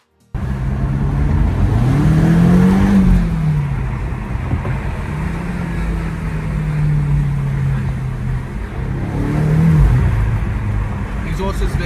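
BMW M4 Competition exhaust while driving, a low engine drone rising and falling as the car accelerates through small turns, fairly loud and continuous, with a brief revving surge near the end.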